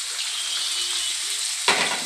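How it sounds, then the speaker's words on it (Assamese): Ginger-garlic paste with bay leaves, cloves, cardamom and cinnamon sizzles steadily in a pan, a sharper burst of frying flaring up near the end as something is added or stirred. "এইখিনি ৰঙা হোৱালৈকে অলপ ভাজি ল'ম ধুনীয়াকৈ"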